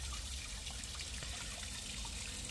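Water trickles and pours steadily into a container for cooking sarmale, a constant close splashing stream with no voices.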